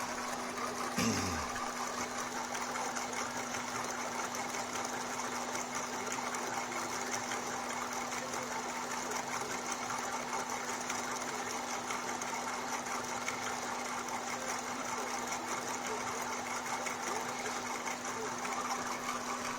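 A homemade SEG machine with three rotating rollers runs continuously on a workbench, a steady loud mechanical whirring hum with a constant droning tone that stays unchanged throughout, with occasional talk faintly underneath.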